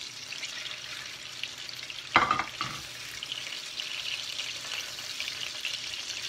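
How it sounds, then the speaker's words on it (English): Chicken tenders fry on a portable burner with a steady, close hiss of oil, broken by a brief louder crackle and stir partway through, with no talking. "of course you're going to let that fry a little more"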